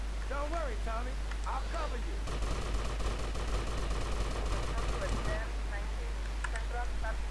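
Rapid bursts of automatic gunfire rattle for a few seconds in GTA Vice City The Definitive Edition, with voices talking before and after the shooting.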